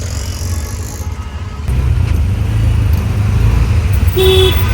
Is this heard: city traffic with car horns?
yes